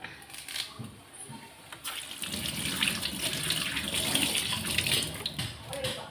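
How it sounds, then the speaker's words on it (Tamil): Tap water runs into a sink while a bunch of curry leaves is washed for a home-cooked Tamil lunch, first in light splashes, then swelling into a steady nearby gush. "கருவேப்பிலை கழுவி வச்சுக்கலாம்."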